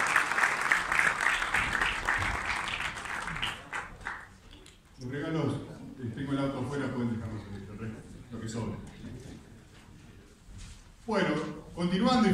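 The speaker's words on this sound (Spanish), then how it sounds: "Muy bien, un fuerte aplauso." An audience at a speech event breaks into a burst of applause that fades after a few seconds, then someone talks and the clapping briefly returns near the end.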